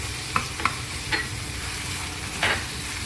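Garlic, ginger and coriander stir-fried in a pan give a soft, steady sizzle. A few brief spoon scrapes and taps break through, with no talking.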